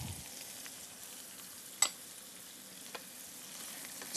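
Yellow squash sautés in butter with asparagus and sun-dried tomatoes, a quiet, steady sizzle running throughout, broken by one sharp utensil tap and a slight swell at the end.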